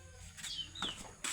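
Chickens on a rainy morning give a few short, faint clucks and squawks over soft background noise, close by with no talk.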